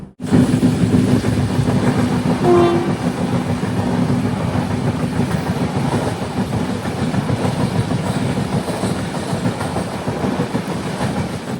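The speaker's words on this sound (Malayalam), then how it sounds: "പതിനൊന്ന് 51 ട്രെയിൻ ഇപ്പോൾ ചാലക്കുടി സ്റ്റേഷനിലേക്ക് എത്തിയിരിക്കുകയാണ്." A passenger train arrives at Chalakudy station in Kerala, heard close as a continuous loud rumble with a steady clickety-clack of wheels over rail joints, alone without talk.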